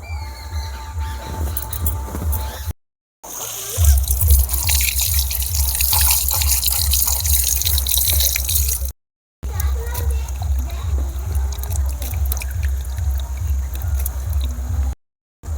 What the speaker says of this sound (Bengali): এবারে ধুয়ে জলটা ঝাড়িয়ে নেব